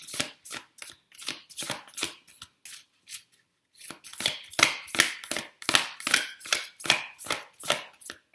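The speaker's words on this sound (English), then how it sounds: "Sorry if the shuffling is loud." Rapid rhythmic riffling of a card deck, repeated bursts of crisp flapping with a brief pause, close and fairly loud.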